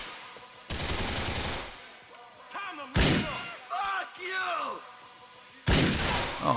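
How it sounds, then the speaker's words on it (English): Gunfire erupts in a GTA IV shootout, with loud bursts of automatic fire in three separate volleys broken by short gaps, while game characters shout over the shooting. "getting shot from the side"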